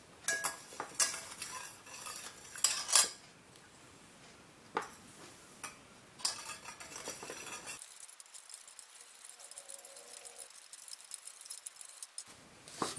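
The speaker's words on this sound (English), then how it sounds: "let's give it a stir" A utensil stirs thick pancake batter for martabak manis in a bowl, giving scraping swirls with sharp metallic clinks in bursts over the first few seconds, then fading to faint light taps near the end.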